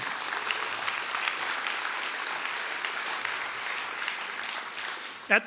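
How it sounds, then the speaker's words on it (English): Sustained applause from a crowd at the Folsom State of the City 2020 event, a dense steady clatter of clapping that fills the whole stretch, with a brief voice breaking through near the end. "How about a big round of applause for them?"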